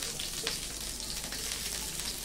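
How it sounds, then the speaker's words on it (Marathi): Ghee heats in a pan for a tempering while dal khichdi is being made, giving a steady, close-up crackling sizzle from start to finish with no voices. "तूप टाकलंय।"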